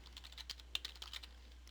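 A web address is typed on a computer keyboard, producing a quick, faint run of close key clicks over a low steady hum.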